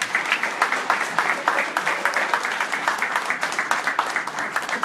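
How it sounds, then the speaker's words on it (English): Applause from the audience at a high school athletic hall of fame induction ceremony, a dense, steady crowd clapping that holds at moderate loudness throughout. "So give yourselves a big round of applause."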